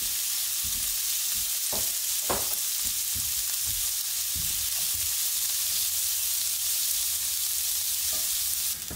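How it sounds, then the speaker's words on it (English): Bacon, celery stalks and a small yellow onion sizzle steadily in a pan of rendered bacon fat, with a constant frying hiss and occasional clicks of stirring, close and moderately loud with no talking. "Now that this bacon's releasing some of its fat, we're going to use it to also saute 2 celery stalks and"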